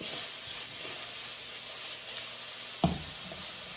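Eggplant with its purple peel left on cooks in a pan, producing a continuous gentle sizzle broken by a single sharp knock partway through.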